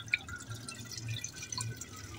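Water runs from a pipe, trickling and dripping steadily into a container, fairly quiet, with a low hum underneath and no voices. The water comes out dirty at first.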